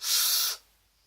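Airflow hiss from drawing on a Recoil Rebel RDA vape, one smooth, steady inhale lasting about half a second, close and fairly loud, then cutting off into near silence.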